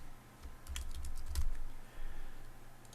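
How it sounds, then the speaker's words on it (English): Keys clack in short bursts on a computer keyboard while a word is typed into a font search, a quick run of close, fairly quiet taps followed by a brief pause and a few more. "So I'll type the word"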